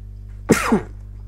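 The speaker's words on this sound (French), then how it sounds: "attention, je vais éternuer" A single sharp sneeze bursts out close to the mic, brief and loud against a low steady hum.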